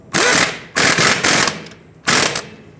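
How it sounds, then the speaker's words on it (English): A ratchet tightens the strut-to-knuckle bolt on a 2012-2017 Hyundai Accent front suspension: three loud, close bursts of rapid clicking, each under a second long, separated by short pauses. "the knuckle should stay in place, so you can tighten up the top one"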